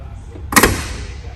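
Door of a 1950 Dodge Wayfarer two-door sedan shutting, a single sharp, solid slam close by, followed by a brief fading rattle and quiet.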